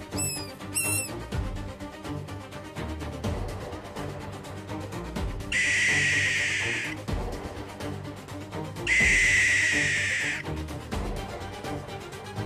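Barn owl in the Chaco delivering two long, harsh hissing screeches several seconds apart, loud and close, over a constant background of soft musical tones and some brief chirps near the start.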